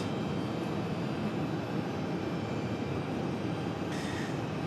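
A Delta Boeing 737-900ER jet departs Raleigh-Durham airport, its engines a steady, distant broadband roar that holds evenly throughout and is heard alone.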